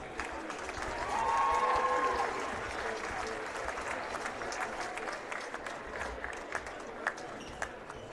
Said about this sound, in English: We can all have a final round of applause for our senior basketball and senior band members.